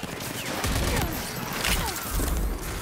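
Heavy gunfire from enemies in the video game Rage 2 rattles on without pause as a dense, steady barrage of shots and bursts, with a few louder booms.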